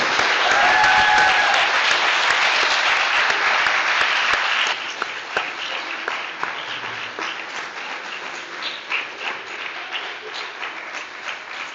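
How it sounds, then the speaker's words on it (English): Loud applause fills a 2022 graduation ceremony for graduates, a thick roar of clapping that drops after a few seconds to scattered, quieter claps from the audience. "let's give our graduates a round of applause"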